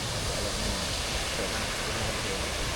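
A steady, loud wash of falling water from a waterfall beside a camping cafe in Thailand, continuous broadband rushing with no pauses and no talk over it.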